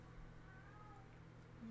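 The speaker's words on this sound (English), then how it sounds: "Kiba is meowing out outside of my room" A cat meows from outside a room, faint and muffled through the wall, with a couple of soft drawn-out cries over low background hum.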